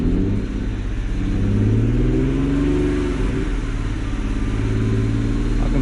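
BMW N54 335i E92 engine with an ignition misfire, revving steadily nearby with an uneven, stumbling drone that rises and falls, no voices.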